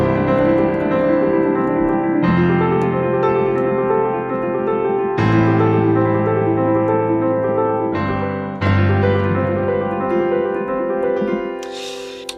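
Piano playing a repeating chord pattern with a seventh flavour, sustained chords struck roughly every few seconds, full and close, with no talking.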